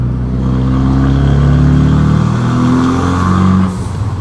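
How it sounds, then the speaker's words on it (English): A Renault Megane RS with a turbocharged 2-liter four-cylinder revs loudly from inside the car, the engine note climbing and holding a strong droning pitch before easing off near the end. "So under the hood of this car is a 2-liter 4-cylinder engine"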